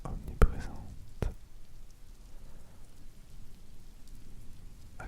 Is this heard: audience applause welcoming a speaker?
no